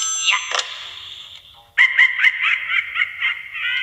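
A phone rings in the Luigi's Mansion 3 video game: bright electronic warbling tones, a burst, a brief pause, then a sustained trilling ring, loud and close with no talk over it.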